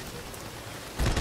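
Steady hiss of rain in Halo: The Master Chief Collection gameplay, a continuous broadband wash that swells abruptly louder near the end.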